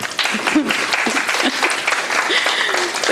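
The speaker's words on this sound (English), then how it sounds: "The clapping always gets me." Steady applause from the audience at a community board public hearing and monthly meeting, continuous dense clapping throughout with a few voices mixed in.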